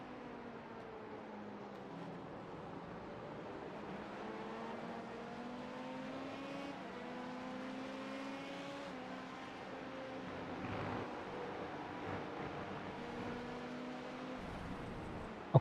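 GT race car engine in iRacing at Watkins Glen, the throttle feathered in uneven surges, so the engine note rises and falls lumpily against a faint, steady background drone.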